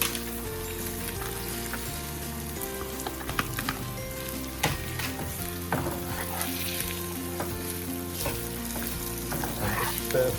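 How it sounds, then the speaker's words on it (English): Spring onion hits hot oil in a wok or pan for a ginger poached chicken dish, a loud continuous sizzle with scraping stir strokes and clattering utensil knocks scattered throughout, no voices present. "Stir fry for about 30 seconds or so."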